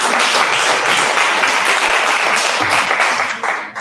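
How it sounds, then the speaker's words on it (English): An audience at a business workshop gives a steady round of applause, with dense clapping that tapers off at the end. "Give a round of applause for that."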